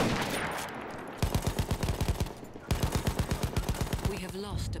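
Rapid automatic gunfire in Battlefield 1 online gameplay, two long bursts of evenly spaced loud shots broken by a short pause, with faint game sounds and a voice briefly underneath near the end.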